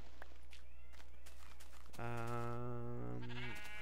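Minecraft sheep bleat loudly in a single drawn-out call, with faint footsteps and soft game ambience before it.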